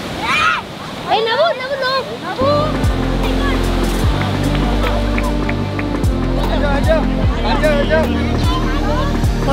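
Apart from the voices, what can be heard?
sea waves at Mumbai seaside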